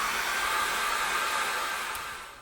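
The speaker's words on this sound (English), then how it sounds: "I'm going to dry that off with a hairdryer" Hair dryer blowing steadily on a freshly painted acrylic canvas, a continuous close, loud airy whir that holds level and eases off slightly at the end.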